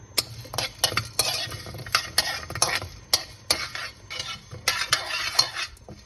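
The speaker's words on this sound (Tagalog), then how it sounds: "cloves, ilang piraso. At saka, star anise. So, ilagay muna natin dito hanggang sa lumabas yung aroma" Cloves and star anise sizzle in a pot while being stirred, with repeated scraping strokes and soft clinks of a utensil over a steady frying hiss, close and fairly loud, no talking.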